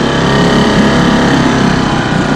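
A dinghy outboard motor running close by after starting, a loud, steady, buzzing engine drone with no pauses or talk.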